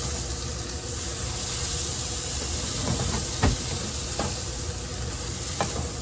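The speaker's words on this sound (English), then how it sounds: "I'm just going to add a nice chunk of garlic to this" A chunk of garlic cooks in a hot pan, giving a steady, loud sizzle and hiss throughout, with a few faint clinks and stirring scrapes.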